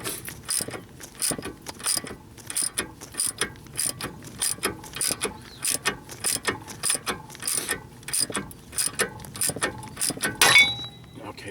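Ratchet socket wrench with a 19 mm socket works on a Ford Taurus tie rod, giving repeated rhythmic clicking bursts up close, with brief pauses between strokes.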